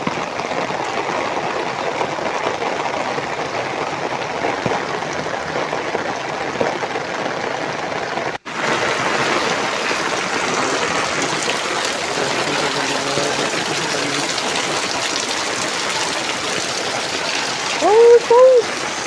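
Floodwater gushes and rushes fast along a village road after heavy rain, a broad continuous roar with a brief break partway and faint sounds near the end.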